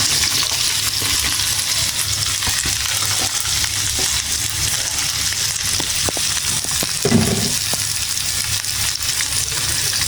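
Okra poured into a hot pan with onions fries with a loud, steady sizzle close up, a brief thud and a few clinks of stirring breaking through the continuous crackle.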